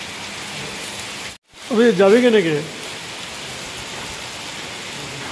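Heavy rain pours down in a steady, dense hiss throughout, and someone speaks briefly over it.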